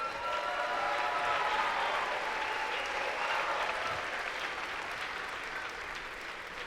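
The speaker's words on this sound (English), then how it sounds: "Round of applause." An arena audience at the FIRST in Michigan robotics state championship gives a round of applause for Gail Alpert, sustained clapping that holds steady and then gradually eases off.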